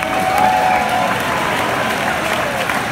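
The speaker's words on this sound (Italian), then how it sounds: "Fatevi un applauso" Audience at a live concert applauding themselves after being praised from the stage, a dense steady wash of clapping and cheering that holds loud and close throughout, with a faint sustained tone riding over it early on.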